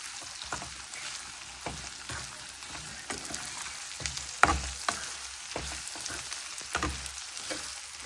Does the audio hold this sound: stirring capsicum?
yes